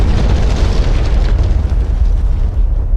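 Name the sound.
explosion of a radar tower struck in DCS World video game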